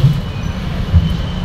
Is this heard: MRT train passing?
yes